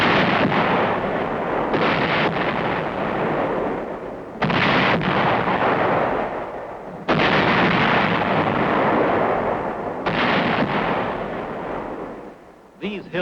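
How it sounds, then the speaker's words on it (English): Divisional artillery of the 24th Division firing on Hill 584 in 1951 Korean War combat footage, repeated heavy booms every few seconds, each followed by a long rolling rumble, loud and distant-sounding, with a narrator's voice over them. "24th Division Artillery prepares to open fire on Hill 584"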